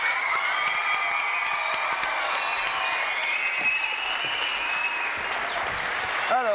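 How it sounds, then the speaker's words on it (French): Studio audience at a French television variety show applauding steadily, a dense, even wash of clapping from many hands that carries at full strength throughout. "Charlie Lulu, applaudissements pour eux, merci beaucoup."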